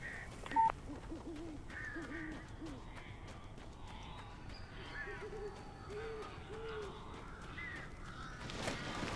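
Strange birds caw in the PC game Alan Wake, faint scattered calls drifting over a low, murky ambient backdrop, with a sharper blip early on.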